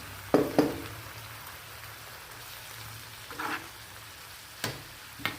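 Water poured into a hot tempering in a pan for radish palya sets off a faint, steady sizzle, broken by a few brief clinks and scrapes.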